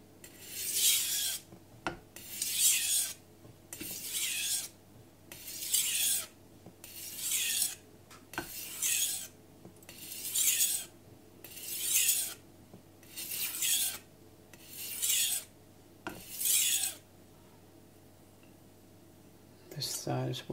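A blade is sharpened on a Miyagoshi whetstone with about eleven evenly paced, rasping back-and-forth strokes, close and clear, and a short quiet stretch after the last stroke.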